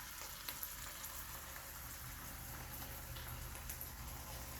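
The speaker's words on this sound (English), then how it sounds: "And then I'm going to add in my pasta to the dish." Pasta goes into a pan of shrimp scampi with lemon zest, garlic, onions and tomatoes, and the pan gives a soft, steady sizzle with faint scattered crackles.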